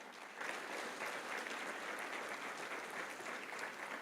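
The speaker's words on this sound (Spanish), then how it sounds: "Dale un fuerte aplauso al Señor Jesús." A church congregation applauds steadily and fairly evenly, a dense wash of many hands clapping for several seconds without speech.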